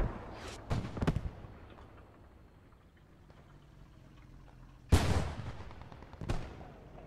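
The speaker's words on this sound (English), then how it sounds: "there goes a shot out from the Renault" A Renault light tank fires its cannon during a Post Scriptum match: a sharp near boom at about five seconds with a rumbling tail, after earlier distant gunshots and a later second blast.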